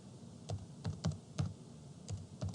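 Keystrokes on a computer keyboard while entering an average formula into a spreadsheet cell, about eight separate clicks in an uneven rhythm, close and fairly quiet with no talk.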